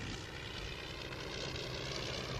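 An early aeroplane passes overhead, its engine drone steady and fairly loud across the whole stretch, broad and rumbling with no voices over it.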